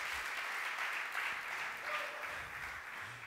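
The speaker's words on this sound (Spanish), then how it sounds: "Des aplausos fuertes al Señor." Loud, sustained applause from a church congregation at a Sunday service, a dense steady wash of clapping lasting the whole stretch with no voices over it.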